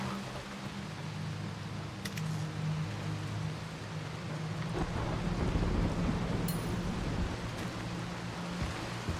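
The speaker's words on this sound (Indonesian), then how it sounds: "Hujan." Steady rain falls in the video game Dying Light The Beast, a constant dense wash of noise with a low rumbling hum beneath, occasional faint clicks, and no voices.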